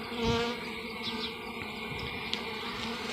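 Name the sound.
honeybees buzzing around a hive being relocated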